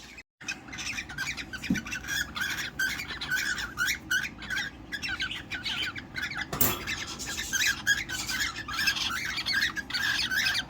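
Cockatiels squawk and chirp continuously while mating, with harsh overlapping calls at close range and one louder burst near the middle; no talk over the calls.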